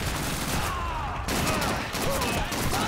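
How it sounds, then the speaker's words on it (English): Heavy gunfire in Call of Duty 2 at Hill 400, a dense continuous fusillade of rapid shots with overlapping bursts and ricochet-like whines, loud and unbroken for the few seconds. "I'm getting shot from behind"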